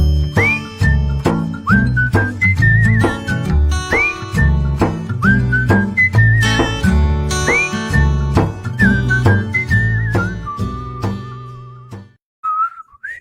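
Bright tuneful whistling, with rising and falling glides repeated in short phrases, plays over a bouncy backing of bells and steady beats, loud and close, then stops abruptly near the end.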